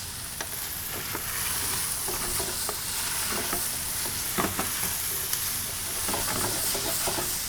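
Chipotles in adobo being stirred into a sizzling dish in a pan, a steady frying hiss with scraping stir strokes and small clacks throughout, no voices.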